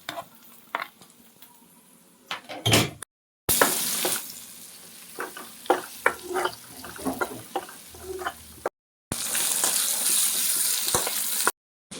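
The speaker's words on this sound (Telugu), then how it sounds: "ఇప్పుడు కట్ పెట్టుకున్న టిల్లీని ఇందులో వేసుకుందాం. ఫ్రై చేసుకోవాలి." Chopped mutton spleen (tilli) with turmeric fries in a hot pan, a loud, continuous sizzle broken by clattering stirs and scrapes, with two brief silent cuts.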